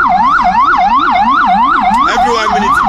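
An ambulance siren wails loudly and continuously in fast rising and falling sweeps, with a second overlapping siren tone joining near the end.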